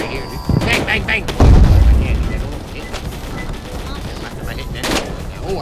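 Gunfire in the Roblox game Edward the Man Eating Train comes as a few sharp shots and one heavier booming blast amid chaotic game noise, with people talking over it.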